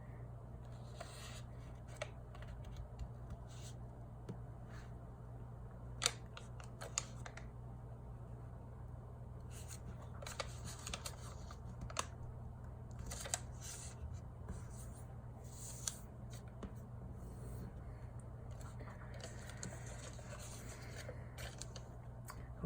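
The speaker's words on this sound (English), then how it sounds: "again folding the bottom edge of the paper to the middle crease you already made" Origami paper for a sonobe-variation unit is folded by hand, the bottom edge brought up to a middle crease, giving soft rustles, light taps and brief crisp creasing sounds that recur irregularly over a steady low hum, with no talking.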